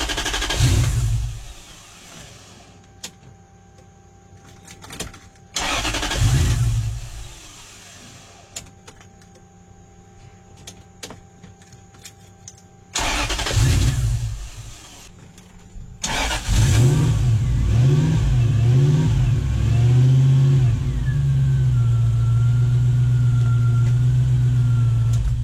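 Car engine whose fuel pump has been bridged: a few short cranking bursts with pauses between, then it catches and settles into a steady, rumbling idle that runs on to the end.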